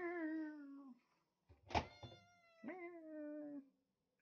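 A pet cat meows insistently near the microwave, where chicken is defrosting: a long drawn-out meow, a short sharp cry, then another sustained meow, loud and close with no talking.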